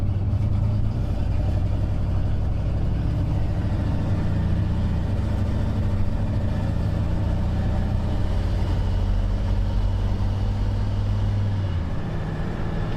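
A turbocharged farm truck engine runs loud and close for the whole stretch, low and rough with an uneven, stumbling beat as it misses while pulling away from a stop sign.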